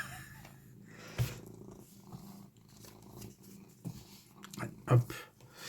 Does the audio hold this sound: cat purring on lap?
yes